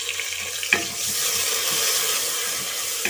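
Ginger garlic paste frying in a pan with browned onions, a steady close sizzle with a brief scrape of stirring, no talking.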